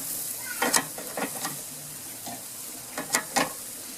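Peeled shrimp sizzling over the hot part of a roughly 450-degree grill fire, a soft continuous hiss punctuated by several sharp crackling bursts in quick clusters, close by.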